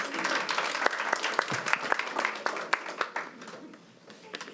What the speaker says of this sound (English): You can clap her up.